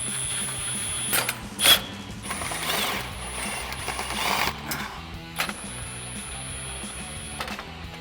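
A 10mm socket ratchet clicks in short rapid bursts close by as fog light mounting hardware on a 2019-2024 RAM 2500 is tightened, with brief metallic clatter and pauses between runs.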